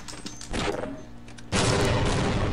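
Dense gunfire and explosions from Half-Life: Blue Shift, a loud continuous barrage that swells into heavier blasts partway through, sustained without pause.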